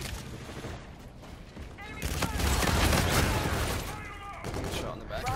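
Gunfire in the Call of Duty Infinite Warfare video game, with dense, rapid bursts of shots that swell loudest midway and then continue, while someone talks over the action.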